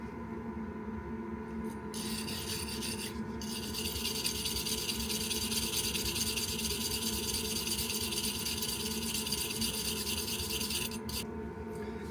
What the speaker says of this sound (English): Just going to give this bit here a light clean up at the bottom, because we're going to be welding along that area as well. Just with the wire brush.